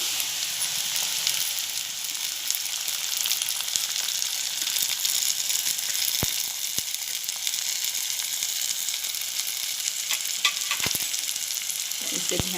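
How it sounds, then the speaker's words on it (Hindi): Kolim, small dried shrimp, frying with softened onions in oil, a loud continuous crackling sizzle with occasional stirring knocks near the end, close and unbroken, no talking. "इसे भी हम प्याज के साथ तेल में भुनेंगे"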